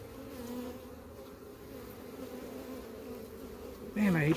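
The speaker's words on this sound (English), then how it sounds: "got a handful of bees on that one" Steady buzzing of many honey bees, a close droning hum that swells louder and higher right at the end.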